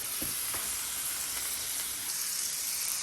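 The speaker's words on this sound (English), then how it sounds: "We got them scallops cooking. Got a little more butter on top. Got the shrimp cooking." Scallops and shrimp sizzle steadily in butter on a grill, a continuous close frying hiss with occasional small pops.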